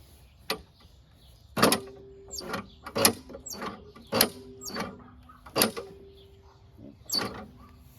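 Recoil starter cord on a WeedEater 21-inch push mower pulled repeatedly, giving a series of sharp ratcheting rasps with short whirring tails and brief pauses between pulls, close by.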